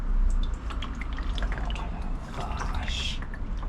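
Hydraulic fluid splashes and drips from a removed hydraulic filter on a Mercedes CL600 V12, a steady close wet spatter running throughout with a brief louder gush near the end and a workshop hum beneath.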